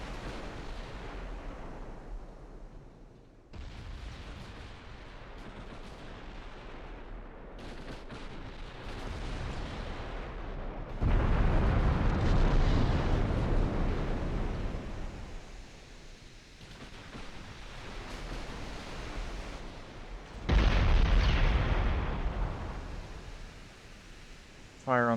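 Naval gunfire and shell hits from a Royal Navy battle against Italy in the video game Ultimate Admiral: Dreadnoughts: a continuous loud roar of cannon rumble, with heavy booming bursts swelling up twice.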